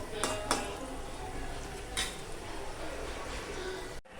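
Onions sauté in a pan for a paneer curry while a metal spoon stirs them, with a soft continuous sizzle broken by a few sharp clinks and scrapes against the pan, close and moderately loud, without talking.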